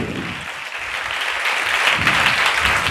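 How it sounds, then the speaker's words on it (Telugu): A church congregation breaks into clapping during a sermon, a full room of hands beating together loud and continuous for a few seconds, building slightly toward the end. "చప్పట్లు కొట్టాలి."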